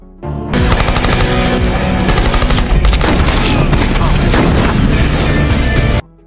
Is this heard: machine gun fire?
yes